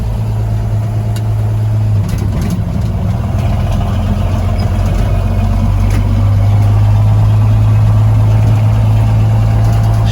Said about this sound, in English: Street pipe on a 240 6-cylinder engine. He's a little loud.